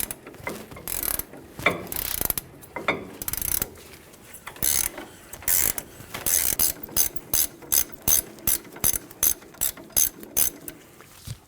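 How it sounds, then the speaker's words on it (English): A ratchet fitted with a 19mm socket spins a castle nut off a ball joint on a 2005-2015 Toyota Tacoma, giving rapid, close clicking in irregular bursts that settle into a steady series of short ratcheting strokes. "Using a 19mm socket, remove the castle nut from the ball joint."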